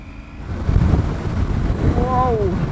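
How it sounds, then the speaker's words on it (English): Strong wind buffets the microphone in a steady low rumble while riding a Triumph Tiger 900 GT Pro motorcycle, with a brief tonal whine near the end. "it is very windy"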